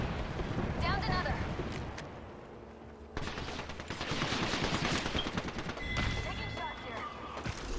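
Gunfire in the online shooter Apex Legends rattles in dense automatic bursts and single cracks, mixed with game effects. A player talks over much of it.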